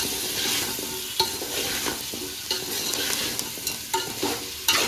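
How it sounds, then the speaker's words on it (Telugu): Vegetables and salt being stirred into lentil soup in a pot: continuous scraping and swishing of a spoon against the pot over a steady bubbling sizzle, with occasional sharper knocks, close and fairly loud, no talk. "ఇప్పుడు దీంట్లో సరిపోయేంత ఉప్పు వేసేసి ఒకసారి మంచిగా అన్నీ మంచిగా కలిపేసుకోవాలి"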